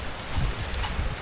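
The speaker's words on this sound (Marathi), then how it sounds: "एवढा तुफान पाऊस लागला आहे ना" Heavy monsoon rain in Konkan pours steadily onto a flooded road, a dense, even hiss with no voices over the short stretch.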